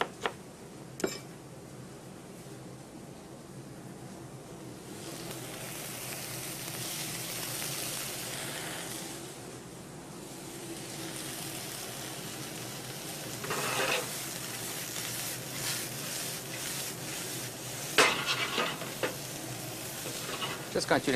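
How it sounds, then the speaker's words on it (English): Leeks and sliced onions sautéing in butter in a pan, a steady soft sizzle with occasional stirring clatter and utensil scrapes, moderately quiet and continuous throughout. "Sauté the leeks in butter."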